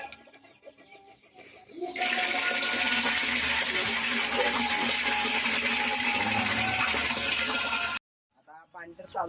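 Water from a motor pump gushes into a container in a steady, loud rush lasting several seconds, then cuts off abruptly before a voice speaks.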